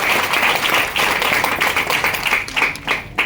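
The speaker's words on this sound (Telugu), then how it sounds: "Great clap sir." Group clapping and applause at a team meeting, a dense, steady patter of many hands that keeps going the whole time with small surges, fairly close and loud.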